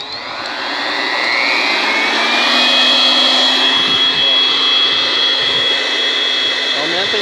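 A gasifier's motor is pushed to higher intensity, its loud, steady roaring whine climbing in pitch over the first seconds and then holding close and continuous.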